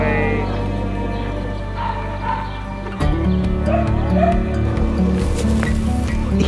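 Shelter dogs barking, yipping and whimpering, a loud busy mix of close excited yelps and whines over steady background noise, with the commotion swelling partway through.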